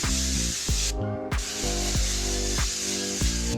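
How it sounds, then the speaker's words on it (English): A loud, close cooking-oil aerosol spray hissing in two long bursts, with a brief gap between them and some clattering underneath. "I'm just going to use some spray oil"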